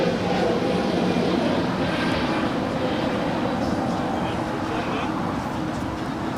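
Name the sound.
Polar Air Boeing 747-8 taking off at LAX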